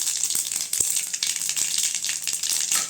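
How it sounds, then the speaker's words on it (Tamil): Mustard seeds and cumin sizzle and crackle in hot oil in a kadai, a steady bright frying hiss with scattered sharp pops throughout. "அடுப்பில் ஒரு வடைச்சட்டி வச்சு எண்ணெய் ஊற்றி வச்சுக்கிட்டேங்க. இப்போ கடுகு சேர்த்துக்கலாம்."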